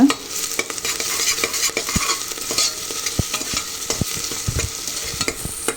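Onions frying with a spoonful of salt for a mutton curry, with a loud continuous sizzle broken by sharp scraping knocks of a spoon against the pan as it is stirred.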